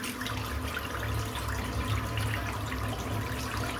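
Tap water runs steadily into a sink as a man wets his head before a shave, a continuous soft splashing hiss at moderate level throughout.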